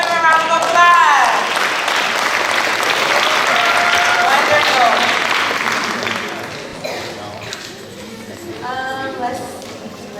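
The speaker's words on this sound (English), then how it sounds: "Give him a round of applause." An audience breaks into a full round of applause lasting several seconds and then fading, with a voice speaking briefly over the start and again at the end.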